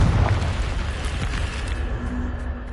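Confringo fire-blast spell in Hogwarts Legacy, a single loud booming explosion with a deep rumbling burst that rolls off over about three seconds, with no voice.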